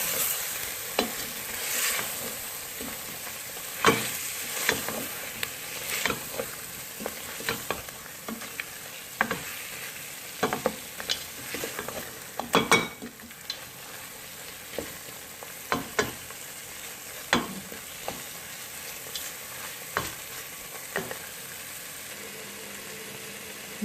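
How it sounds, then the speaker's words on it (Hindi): Spices with yogurt batter and vinegar fry in a pan for aloo chicken shorba, a steady sizzle broken by frequent sharp scraping and clinking strokes of a spoon against the pan, close and without speech. "उसके बाद इनको अच्छी तरह से भून लेंगे।"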